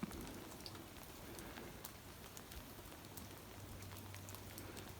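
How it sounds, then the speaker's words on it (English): Steady rain patters outside a cabin in the woods, a soft continuous hiss of drops with scattered sharper taps on surfaces, moderately faint and without any voices. "It's raining."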